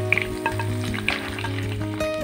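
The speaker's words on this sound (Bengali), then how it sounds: "এক দিক ভাজা হয়ে গেলে উল্টে অন্য সাইডটাও ভেজে নেব।" Pomfret fish fries in hot oil in a pan, giving a steady close sizzle with scattered sharp crackles and pops throughout.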